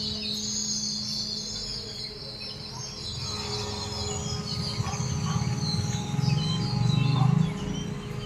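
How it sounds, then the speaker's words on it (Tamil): Faint sparrow chirps and tweets flutter over a steady wash of rain and a constant low hum, the calls scattered and distant, growing slightly busier toward the end. "பறவைகள் ஓசைகளை பார்த்தீங்களா?"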